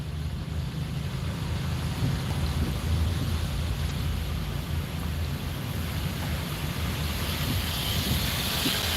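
Heavy nighttime rain pours steadily throughout, with low rolling thunder rumbling underneath, broadband and continuous at close range without pause.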